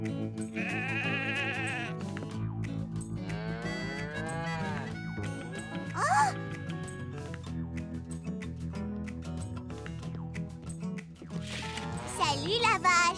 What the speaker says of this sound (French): Salut la vache.